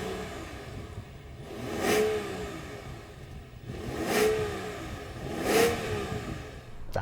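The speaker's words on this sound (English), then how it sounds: "can you let me hear your engine please?" A BMW 760Li V12 engine revs three times in quick succession, each rise swelling and falling back to a steady idle, heard close and alone.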